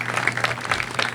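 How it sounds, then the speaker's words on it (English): A brief burst of applause from an audience at a computing institute presentation, with a few distinct claps standing out over a low steady hum, fairly close and loud. "If we could collectively give them a big round of applause, I'd appreciate it."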